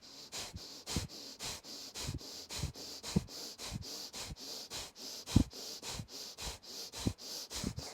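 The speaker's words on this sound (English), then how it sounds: "sharp exhales out the nose" Sharp, forceful exhales pushed out through the nose during a yoga breathing drill, fired in a quick even rhythm of about two per second, close and clear with no talking.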